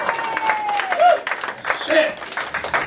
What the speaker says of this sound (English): I ain't tell y'all to stop clapping.